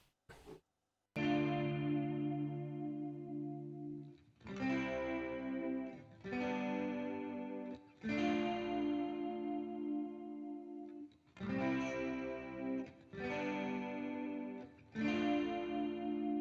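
Two electric guitars playing single strummed chords in a verse, washed in a fairly long room reverb. Each ringing chord is struck roughly every two seconds and left to decay, fairly quiet, with no voices.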